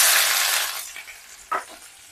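Small onions and a dried red chili sizzle loudly in hot oil for a spinach dish. The frying hiss is strongest at first, then eases off, with one brief clink partway through.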